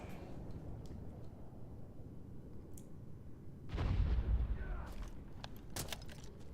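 Gunfire in a video game: a muffled low boom swells midway through a steady background hiss, followed by a few short, sharp cracks near the end.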